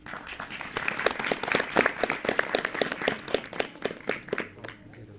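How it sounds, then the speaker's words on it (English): Audience applause for headmasters at a school prize distribution ceremony, a sustained, fairly close patter of many hands clapping at a lively, uneven rhythm for several seconds. "they deserve a big round of applause"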